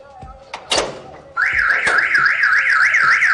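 A thump and clatter give way to a loud car alarm, its siren warbling up and down steadily without pause.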